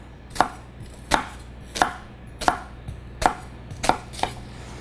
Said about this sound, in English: We'll just take the ends off, cut it in half, and we're gonna score our onion.